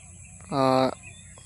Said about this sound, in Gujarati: બેકગ્રાઉન્ડ મ્યુઝિક તમે સાંભળો છો કેટલું ખતરનાક આવે પક્ષીઓનો અવાજ